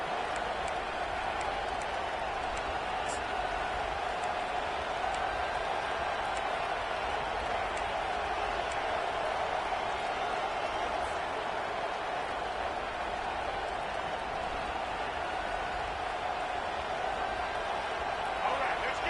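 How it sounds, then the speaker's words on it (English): Stadium crowd at a college football game, a continuous dense roar and murmur filling the whole stretch, steady and loud, with commentators talking over it. "This crowd trying to make life miserable for this offense."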